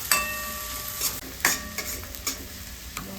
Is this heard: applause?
no